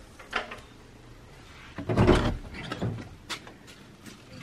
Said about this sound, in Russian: Что-то калитки гремят, а в двери никто не стучится.